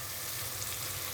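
Ginger paste sizzles steadily in a hot pan while khichuri cooks, a continuous close frying hiss with no voices over it.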